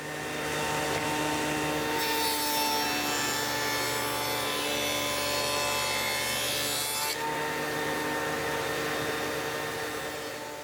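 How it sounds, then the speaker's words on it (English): A table saw fitted with a dado stack cuts a groove in a wooden workpiece: a steady, loud whining drone that swells harsher and brighter while the stack is in the wood, then eases back to the spinning hum, with no talking. "I've changed out my blade for a dado stack, and I'm going to run the pieces through in a few passes"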